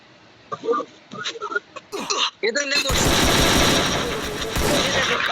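A shooting video game sounds with a burst of rapid automatic gunfire after a few scattered sounds, loud and sustained, while a player talks excitedly at the start.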